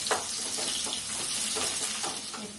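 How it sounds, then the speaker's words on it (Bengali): Onion and chili frying in a pan with nigella seeds, giving a steady close sizzle with a few soft stirring scrapes, no voices. "পেঁয়াজ দিলাম আটা লঙ্কা দিলাম পেঁয়াজটা হালকা করে"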